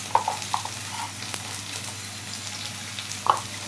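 Turmeric, chili and coriander powder stirred in a hot oiled pan, a soft steady sizzle with a few faint scraping clicks of a spoon.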